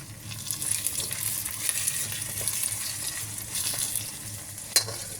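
Herb stems sizzling and frying with onion in a pan, a steady close hiss with occasional stirring scrapes and one sharp clink near the end.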